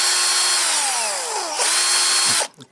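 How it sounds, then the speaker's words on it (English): Power drill with a small bit whining steadily as it cleans out the heads of salvaged screws, pitch dipping under load midway, then cutting off abruptly. "if you want to salvage them, what you can do is get a drill bit, slot them in and just clean them up"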